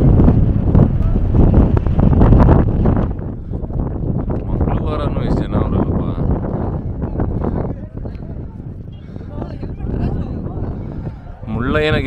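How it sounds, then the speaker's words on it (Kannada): Strong wind blows across the summit of Mullayanagiri hill, loud gusty buffeting on the microphone that eases midway and returns in bursts, with people talking faintly at times. "ಸಿಕ್ಕಾಪಟ್ಟೆ ಗಾಳಿ."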